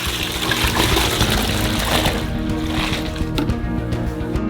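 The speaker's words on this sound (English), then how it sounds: "pour 8 liters of milk into a saucepan in advance" Milk pours into a saucepan, a short close stream of liquid with a soft splashing trickle.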